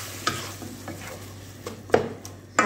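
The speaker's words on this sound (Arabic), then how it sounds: "حنخلي البصل تاعنا يتقلى شويه" Onion frying in a pan while being stirred, a steady low sizzle under several sharp utensil scrapes and clinks against the pan.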